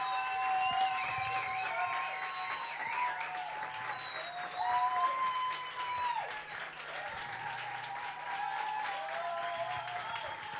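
Audience at a BajoBar performance applauds a singer, with steady, moderately distant clapping sustained for several seconds and faint voices and tones threaded through.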